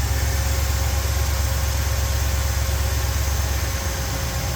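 Steady close idle from the 351W Ford V8 in an old catering truck, a continuous low rumble with hiss on top that holds even and unbroken.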